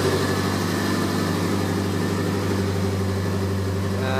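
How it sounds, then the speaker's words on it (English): A 1983 VW Rabbit GTI engine idling, with a faint hiss of air intake at the air filter: a steady, even, low mechanical hum that stays constant and fairly muted throughout, with no talking. "You can hear a little bit here, the intake to the air filter, but otherwise it really does quiet the engine down a lot."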